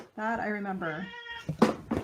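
A cat meows close by, drawing out two long tonal calls for attention, and then a person starts talking.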